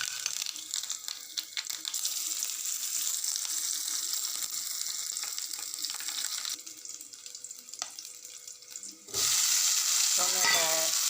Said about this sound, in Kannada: ಈಗ ಇದಕ್ಕೆ ಸ್ವಲ್ಪ ಎಣ್ಣೆ ಹಾಕು. ಈಗ ಸಾಸಿವೆ